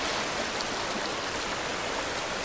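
Creek water of the Washougal River flows nearby, a steady, close rushing and splashing wash that stays constant throughout.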